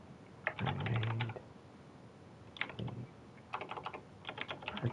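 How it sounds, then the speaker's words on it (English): Typing on a computer keyboard comes in quick clusters of close, crisp key clicks, with pauses between the bursts and no voices. "For anyone listening to me typing"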